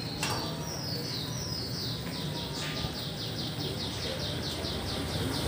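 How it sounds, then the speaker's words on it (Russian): A bird repeats a rapid, steady series of chirping notes outdoors on Bach Dang street, clear and fairly close over a constant background hum. "Да, птицы поют."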